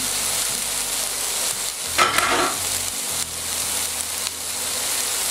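Lamb kidneys fry in a pan with a steady, close sizzle, a short burst of louder crackle and stirring partway through, then settling back to an even hiss with no one speaking.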